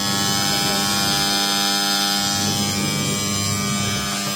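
A Whirlpool semi-automatic washing machine running, a steady close electric motor hum with a tonal buzz and constant whir, unchanging throughout without talk.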